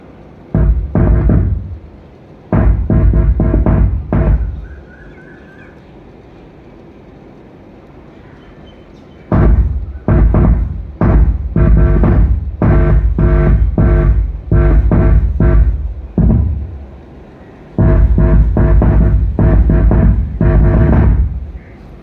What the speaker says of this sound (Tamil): இப்போ பார்த்தீங்கன்னா ஆம்ப் ஆன் ஆயிடுச்சு இப்போ நம்ம அந்த பின்னை போட்டு தட்டி பார்த்துருவோம் எப்படி இருக்குன்னு